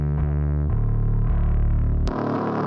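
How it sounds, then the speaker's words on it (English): A heavily distorted bass guitar plays a gritty, buzzing riff with sustained low notes, loud and upfront, shifting pitch a few times. "You sent a bass distortion track."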